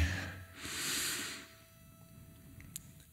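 One slow, deep breath drawn in close to the microphone, a soft airy hiss that swells for about a second and then fades into near quiet.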